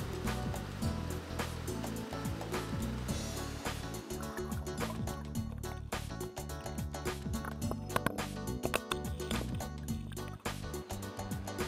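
Fast-flowing river water rushing steadily during rain, a dense continuous broadband roar with no breaks, close and fairly loud throughout.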